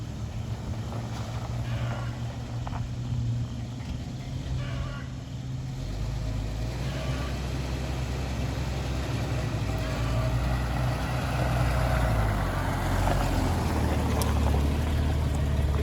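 A steady low engine rumble runs throughout, close and continuous, with a slight shift in pitch partway as it idles.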